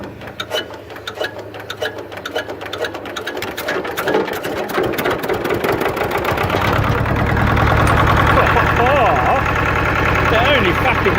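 A Lister ST2 diesel engine on an old dumper is hand-cranked, rapid mechanical clattering building up before the engine catches and settles into a loud, steady running chug, with a voice heard briefly near the end.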